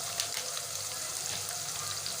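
Onions fry on a low flame in a pan, giving a steady, even sizzle with no talking and no pauses.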